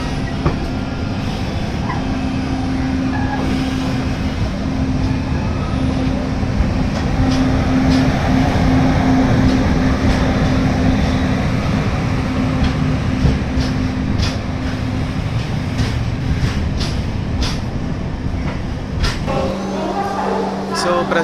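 Cocanada Express with LHB coaches runs steadily along the line toward Rajahmundry, a continuous loud rumble with wheel clatter and a sustained hum inside the coach, easing at the end.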